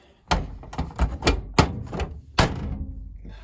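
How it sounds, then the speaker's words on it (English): Hotpoint WMA37 Aquarius washing machine door being pushed shut with its original door seal, a series of loud close thuds and knocks, several sharp impacts in quick succession followed by a final heavier clunk, no talking. "let's close that up a minute."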